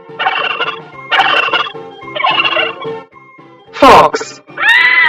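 A turkey gobbles loudly and close by in three rapid rattling bursts, followed by a sharp louder squawk and a rising drawn-out call, with no other sounds around.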